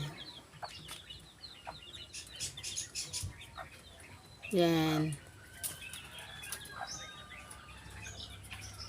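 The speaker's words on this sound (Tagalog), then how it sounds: "Bato-bato ang tawag dyan sa aming ibon na yan." Bato-bato birds call in short chirps and clucks, with a brief louder burst of fluttering wings near the middle, amid a busy outdoor bird chorus and a voice speaking.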